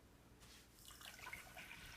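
Water is poured into a container with sea salt to make a brine, a soft, close splashing trickle that starts after a brief quiet and carries on to the end.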